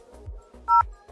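Short electronic keypad tones from a VoIP softphone dialing a test call on a simple Mikrotik-based network, two or three clean beeps close up in quiet surroundings.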